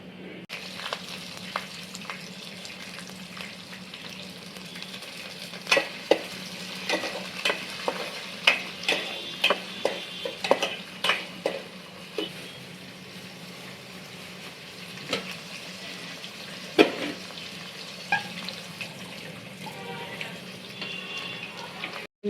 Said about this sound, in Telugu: ఇప్పుడు పచ్చిమిర్చి వేసేసి